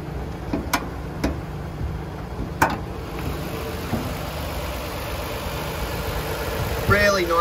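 A 2019 Toyota Kluger GX engine idles steadily with a low, even rumble, joined by a few sharp clicks early on and a slight rise near the end.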